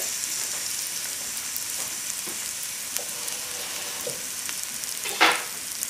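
Garlic and onions frying in a pan for tilapia Lyonnaise, a steady close sizzle with light crackles and a brief louder hiss near the end, no voices.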